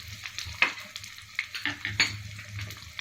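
Urad dal and asafoetida powder sizzle and fry in hot oil for a green chilli pachadi, with a steady crackling hiss, a few sharp pops and light stirring scrapes, close and alone.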